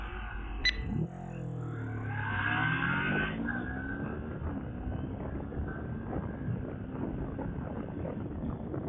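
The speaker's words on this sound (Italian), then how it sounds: "Adesso proverò a fare qualche test di ripresa della moto, incominciando con uno 0-100" Moto Morini Seiemmezzo scrambler motorcycle pulling hard from a standstill toward 100 km/h, engine note rising steadily through the gears with brief shift dips, loud and close throughout with wind roar underneath.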